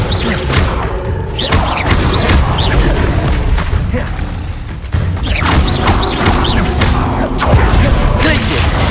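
Bombarda explosion spells go off during combat in Hogwarts Legacy, with loud booms, crashes and thuds arriving in quick succession over dense game noise while a player shouts spell names.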